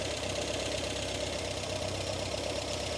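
A motorcycle engine idling while its carburettors are synchronised, a steady close rumble with even knocking pulses and no voices.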